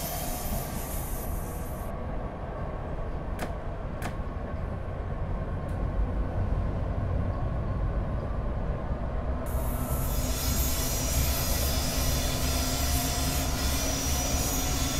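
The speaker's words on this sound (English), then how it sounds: "Here comes another train coming in the other direction, which is driven by the cab car." An LA commuter train led by a cab car passes in the opposite direction, a loud steady rumble of wheels on rail with a rush of air and brief squeals, heard from aboard a train hauled by an F59PH locomotive.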